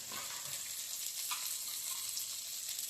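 Masala poured into a hot pan for an ayala fish curry sizzles and fries in a steady, close hiss with faint bubbling and stirring.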